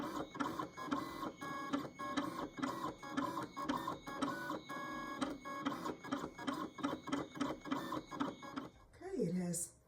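A Siser Juliet cutting machine engraves a Christmas ornament, giving off a steady, loud, rhythmic mechanical chatter of motor whir and repeated clicking pulses that runs almost the whole time before stopping near the end.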